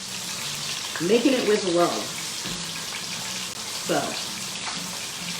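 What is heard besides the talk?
apple fritters sizzling while frying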